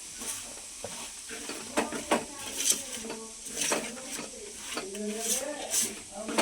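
Korameenu fish pieces are stirred with salt and chili in a pot for a curry, giving soft scraping and clinking against the metal in uneven bursts while a person talks nearby.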